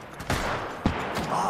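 Gunfire in a shooter video game: a few sharp, loud shot bursts spaced roughly half a second apart over a steady background rumble.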